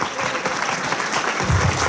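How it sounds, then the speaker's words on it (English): A convention panel audience gives dense, steady applause at the close of the session, loud and fairly close, with a faint voice briefly heard near the end. "Let's give a round of applause."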